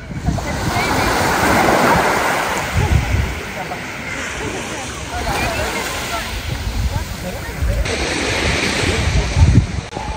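Atlantic ocean waves surge and wash up Praia Nova beach in the Algarve, Portugal, in repeated swells, with wind buffeting the microphone loudly between breakers.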